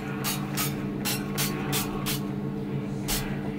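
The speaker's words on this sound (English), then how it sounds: "Spray our pan with some" Several short hissing bursts of a 1-calorie cooking oil spray onto a pan, close and evenly paced, over a constant background hum.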